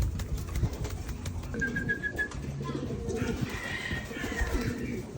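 Free-flying pigeons coo in soft, low repeated notes over busy outdoor background noise, with scattered chirps and a brief whistle mixed in.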